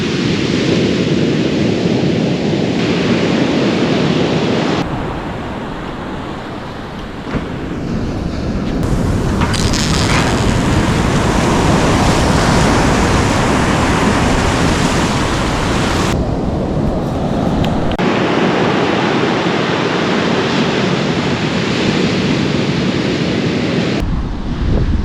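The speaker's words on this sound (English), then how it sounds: "Surf's massive, I can't get out past the waves" Large surf breaks on an Australian wilderness beach, a loud continuous roar of crashing waves with rising and falling surges and heavy wind buffeting the microphone, and no voices.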